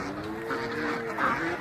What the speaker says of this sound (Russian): индоуточки у меня уже вышли